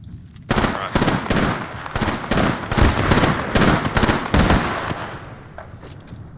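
Rapid, loud bursts of automatic gunfire in Apex Legends, a rattling stream of closely spaced shots that continues for several seconds.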